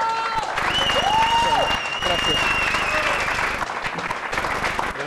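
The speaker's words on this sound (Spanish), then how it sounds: "Vamos a aplaudir." A studio audience at a televised live-music show applauds steadily and fairly loudly, a dense wash of clapping that carries on under a voice briefly speaking.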